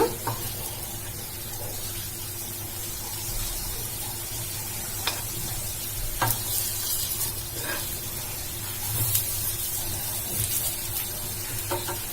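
Bread snack pieces frying in a pan, a steady soft sizzle running throughout with a low hum underneath and a few faint clicks of turning, no voices.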